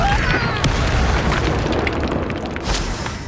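The Incendio fire spell erupts in Hogwarts Legacy as a loud, dense whooshing blast with a deep booming body, roaring throughout with brief crackling bursts and a voice mixed in.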